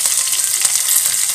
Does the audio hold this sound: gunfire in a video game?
no